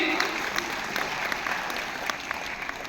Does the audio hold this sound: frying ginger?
no